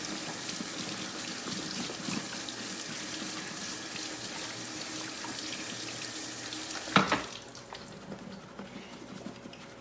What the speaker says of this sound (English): Let's rinse these strawberries and get all those little seeds.